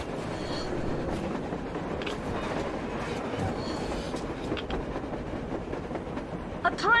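Surface train in the video game Metro Exodus, a steady rumbling rail roll with faint clatter running through the whole stretch, rising slightly near the end, with voices underneath.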